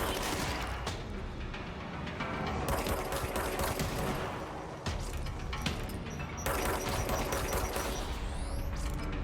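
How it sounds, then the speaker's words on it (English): Gunfire from shooting enemies in the game Control, a dense, continuous barrage of rapid shots with crashing impacts, loud and sustained with brief dips throughout. "These guys are gonna attack me anyway, so I might as well shoot them."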